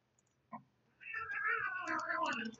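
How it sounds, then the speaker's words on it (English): Several house cats fight, yowling and meowing in a loud, sustained, wavering scuffle after one short sharp yelp, close by with no talk. "My cats tend to fight a lot."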